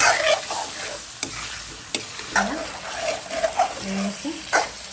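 Spice paste being sautéed with potatoes, cauliflower and taro in a pan, giving a steady sizzle with scraping stirs and clinks of a spoon, while a voice talks briefly over the cooking.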